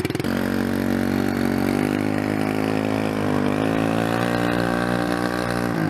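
A dirt bike engine runs close by in a steady buzzing drone, its pitch dipping and then rising again as throttle is applied. There are no voices over the engine.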